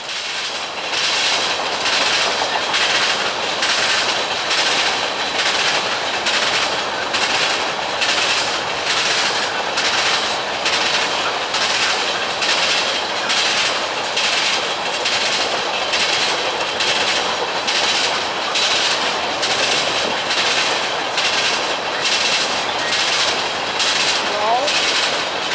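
A CSX freight train rolls past at close range on a Northern Ohio line near Deshler, wheels beating a steady, loud clickety-clack over rail joints throughout, with a faint squeal near the end.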